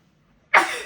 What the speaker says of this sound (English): Oh, excuse me, sneeze.